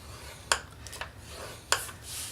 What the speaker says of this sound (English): First thing we need to do is score our cardstock. And use our Simply scoreboard.